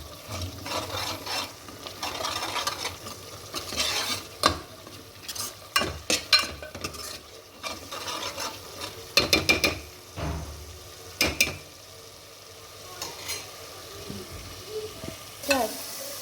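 Chicken masala for a Khandeshi chicken rassa is sautéed in a pan, a steady sizzle broken by repeated scraping and knocking of a spatula against the pan, with several clustered sharp clanks.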